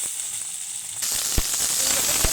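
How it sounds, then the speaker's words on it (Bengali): Washed ridge gourd hits oil in a hot wok, and a steady hiss jumps to a louder, crackling sizzle partway through, with a few sharp pops near the end. "একদম কড়াইতে ডাইরেক্ট দিয়ে দিচ্ছি জলটা একটু ঝারিয়ে নিচ্ছি"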